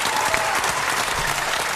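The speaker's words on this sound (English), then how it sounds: "Keep them applause going right there" A room of listeners applauds after a freestyle rap performance, a short, steady burst of close clapping and crowd noise.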